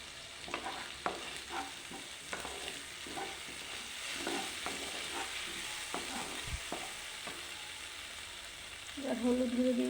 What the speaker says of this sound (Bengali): এবার মুসুর ডাল দিয়ে দেবো।